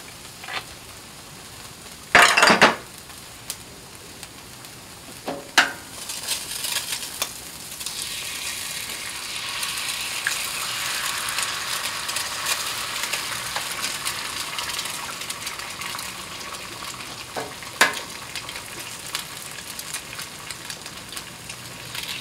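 Eggs frying in a pan give a steady hiss and sizzle, broken early by a couple of sharp clatters and scrapes of utensils against the pan, with later occasional clicks over the constant crackle.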